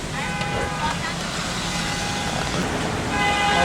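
A car alarm set off by fireworks on a city street, a steady electronic tone wailing and then swelling louder at the end, mixed with traffic rumble and street noise.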